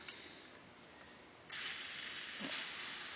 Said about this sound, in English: run it through until all the fluid comes out of the nozzle